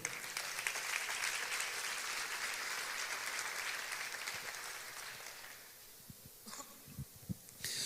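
A church congregation applauding during a worship service, steady dense clapping that fills the room for several seconds, then thins out and fades to scattered claps and near breathing.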